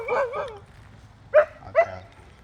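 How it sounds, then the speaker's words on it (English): Several dogs bark outdoors, a quick pair of yips followed by two separate single barks after a pause, moderately loud against a quiet background. "we have we have about like three of our dogs out right now"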